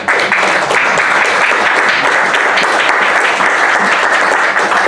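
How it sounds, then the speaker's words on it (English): Loud, dense audience applause after a poetry reading at a spoken-word event, steady and sustained throughout without a break. "I love the applause, thank you very much."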